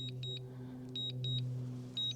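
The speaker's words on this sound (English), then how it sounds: "I take off this return to home with the beeping and everything" Return-to-home warning beeps from a DJI Air 3S drone controller: short high electronic beep bursts in an uneven pattern, fairly clear over a low steady hum.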